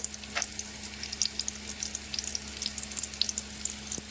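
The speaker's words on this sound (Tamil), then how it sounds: "வதக்கிறதுக்காக பெரிய வெங்காயம் கொஞ்சம் வதங்கின உடனே நாலு பல் பூண்டு" Chopped large onion and garlic cloves sautéing in a pan for a tamarind curry: a steady soft sizzle with scattered crackles and pops and an occasional stir, close and alone.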